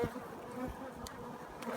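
Bees buzz steadily at an open beehive, a close, continuous insect drone that holds through the whole short moment.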